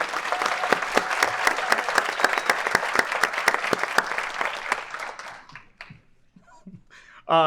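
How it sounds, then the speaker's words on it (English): Audience applause at a nurses' association House of Delegates opening ceremony, a dense steady round of clapping for a departing colleague that fades out over the last seconds, followed by a brief burst of speech at the end. "giving Mary another round of applause"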